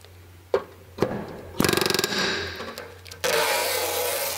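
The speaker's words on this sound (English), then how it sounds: "Screw it onto the rivet gun." A rivet gun sets a rivet in sheet metal for an RV-4 aircraft footwell, giving a few sharp clicks followed by a rapid pneumatic buzz and a burst of hissing air up close.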